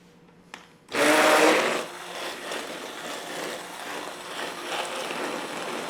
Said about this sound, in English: Once you put all the ingredients together, you take an immersion blender.